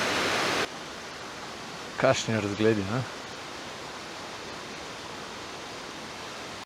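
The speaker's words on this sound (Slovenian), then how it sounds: "slapovi začnejo." Mountain stream waterfalls on the Belopotoški Skočniki and Martuljški falls route, a steady broadband rush of falling water heard throughout, with a brief spoken remark partway through.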